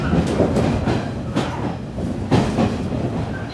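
A Chuo Line train runs inbound toward Takao, giving a steady interior rumble with rhythmic wheel clatter and periodic louder thumps.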